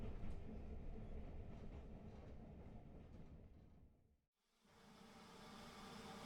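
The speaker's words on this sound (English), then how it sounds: "So the first train we encountered was the S15 506, which was a steam locomotive designed by William Adams." A train on the Watercress Line heritage railway rolls past with a steady rumbling clatter that fades away, then a brief sharp drop to near silence before the rolling noise resumes, faint and distant.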